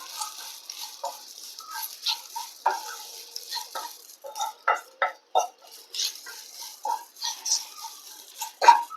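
A spatula stirs and scrapes egg and drumstick leaves in a pan over low flame, with sharp irregular clacks and scrapes in a sparse, uneven rhythm and quiet gaps between.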